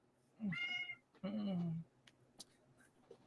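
A cat meows twice up close, a short cry followed by a longer, drawn-out one, with quiet room noise and faint small clicks in between.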